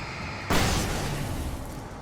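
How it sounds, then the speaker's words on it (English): A flash grenade in Alan Wake Remastered goes off with a single sudden, loud burst about half a second in, followed by a hissing rush that slowly dies away. "Flash grenade"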